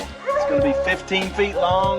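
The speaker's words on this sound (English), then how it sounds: "Sorry about the dogs." Several dogs bark and yip close by at a backyard waterfall project in Huntersville, North Carolina, sharp repeated barks over someone speaking.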